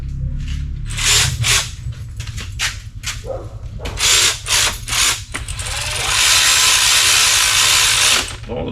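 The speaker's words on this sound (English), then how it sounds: "let's see, we need our ratchet." Ratchet wrench clicking on engine bolts while a 1969 wagon is prepared for a new engine, with repeated bursts of mechanical ratcheting, then a steadier louder stretch of clicking close to the microphone.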